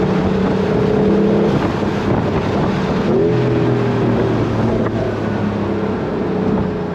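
A Porsche 911 Carrera GTS T-Hybrid accelerating under a broad rush of wind and road noise, its engine note rising through a gear change partway through, steady and moderately loud.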